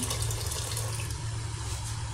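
Broth poured into a pot while making yellow cucumber soup, a steady close liquid stream splashing continuously with no talk.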